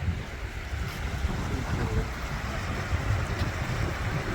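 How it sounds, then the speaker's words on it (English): A river runs over a rocky riverbed just above Salmon River Falls in New York, a steady close rushing of water roughened by wind noise on the microphone, with no voices. "Okay, we're down here and here's the river."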